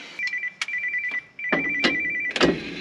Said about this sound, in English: Your phone's ringing more than mine is today.